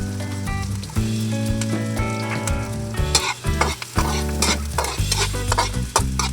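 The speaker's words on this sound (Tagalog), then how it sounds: "Hintayin lang po natin mag-brown yung sibuyas bawang natin." Onion and garlic sautéing in a pan give a loud, steady sizzle with stirring scrapes. Strong tonal background music plays throughout.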